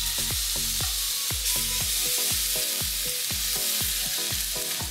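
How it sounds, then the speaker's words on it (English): Ahi tuna searing in a hot pan, a loud continuous sizzle with repeated sharp crackling pops in quick rhythm throughout, close up and with no talking. "when I'm flipping the fish, I'm switching sides of the pan so that it'll just always be hot"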